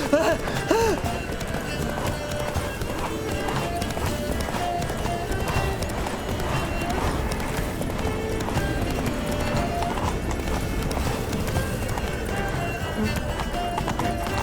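Roach, a horse in The Witcher 3, gallops with a fast, rhythmic clip-clop of hooves and whinnies near the start. Voices seem to talk over the hoofbeats.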